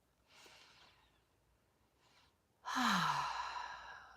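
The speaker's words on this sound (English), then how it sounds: "let's take a deep breath" A deep breath taken close to the microphone: a faint, drawn-out inhale, then a brief soft breath, followed by a loud, long sighing exhale that fades slowly, with no talking.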